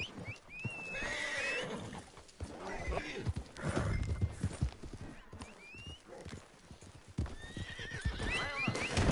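Horses in the Red Dead Online video game whinny several times over steady clip-clopping hooves, the calls rising and falling near the listener through the stretch without any talk.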